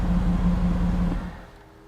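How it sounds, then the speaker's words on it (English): A 2017 Mercedes-AMG GT C engine idles with a low steady rumble, then is switched off and dies away into near silence after about a second and a half. "put it back into park and switch it off"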